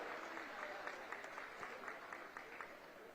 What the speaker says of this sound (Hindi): जोरदार ताली बजा करके उनका स्वागत करो।